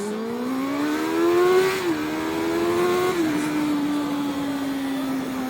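A powerful motorcycle engine drones steadily while lane splitting through traffic, its pitch climbing, dipping as it shifts, then climbing again and settling into a sustained hum with no talk.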